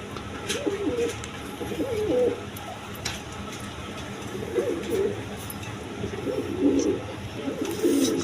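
Bantinet pigeons coo in soft, rolling phrases, repeating every second or two at close range, over a low background hum with no talk.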